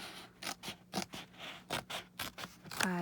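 Scissors snip through a paper file folder in a quick series of about eight crisp close cuts, ending with a sharper rasping snip.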